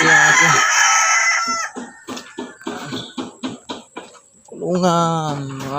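A rooster, a red junglefowl, crows loudly nearby, with a second crow near the end and clucking between.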